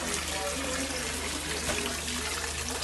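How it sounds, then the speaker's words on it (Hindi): Flood water about three feet deep inside shops of a flooded Karachi cloth market, a continuous rushing, splashing wash of water filling the space at steady loudness. "ये 3-3 फीट अपनी दुकान के अंदर ये पानी के अंदर खड़े हुए हैं।"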